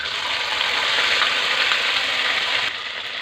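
A spice paste of green chilli and mustard sizzles steadily in hot oil with bay leaf, dried red chilli and turmeric, a loud, continuous close frying hiss that eases slightly near the end.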